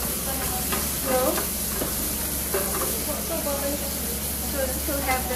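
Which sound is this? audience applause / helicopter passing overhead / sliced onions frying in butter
sliced onions frying in butter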